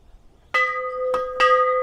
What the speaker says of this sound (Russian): Ну, колокольчики.